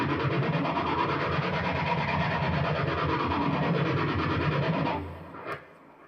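A guitar pick scrapes along the strings in the intro to a song, a loud, steady rasping grind held for about five seconds, then breaking off into a brief faint scrape.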